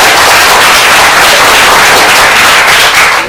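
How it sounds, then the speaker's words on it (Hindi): Loud, dense applause from a large audience at a Hindi-language health and success seminar, continuous and steady throughout with no talking over it. "जोरदार ताली"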